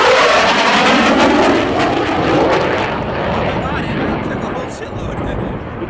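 A Royal Canadian Air Force CF-18 Hornet jet roars loudly past at an airshow, a sustained broadband rush that swells and then slowly fades as it recedes, with voices talking over it.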